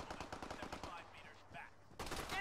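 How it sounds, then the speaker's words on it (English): Gunfire in a military video game: rapid bursts of machine-gun fire, faint and close together, with a louder burst at the end, beside a game voice. "Enemy fire!"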